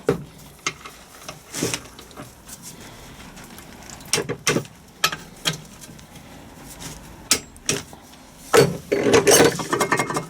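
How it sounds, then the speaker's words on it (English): A ratcheting torque wrench tightens bolts on a Land Rover Defender TD5 LT230 transfer box, giving repeated short bursts of close, sharp metallic clicking separated by brief pauses, with a denser flurry of ratchet clicks near the end. "So let me get these in and torqued up."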